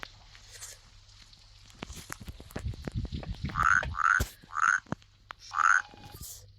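A frog in the horror game Dentures and Demon croaks four times in a steady run of loud, close calls, with footsteps and thuds beneath them.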